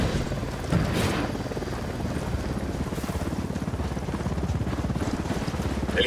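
Helicopter in the video game Ghost Recon Wildlands, a steady rotor chop pulsing fast and continuous at close range, loud and unbroken with no talking over it.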